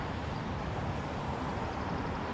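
Steady traffic rumble around a traffic circle in downtown Salisbury, Maryland, in the Camden neighborhood, a continuous broadband wash of passing cars with no distinct horns or voices.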